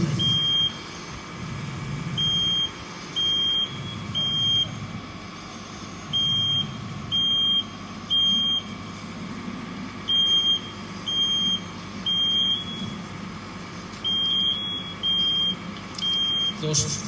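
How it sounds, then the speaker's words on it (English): A fire alarm sounds in repeated groups of sharp high beeps, three at a time with short pauses, inside a smoke-filled container during a live sprinkler demonstration, over a low rumbling background and occasional talk. "So fire alarm activated in this container now as well."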